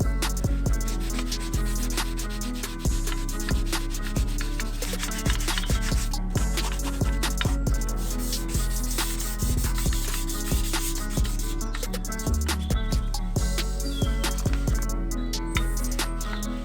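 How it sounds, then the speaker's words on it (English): A JDM STI strut bar for a Subaru Forester is sanded by hand, a continuous close rasping rub in steady back-and-forth strokes with no talk. "I ended up by sanding the bar"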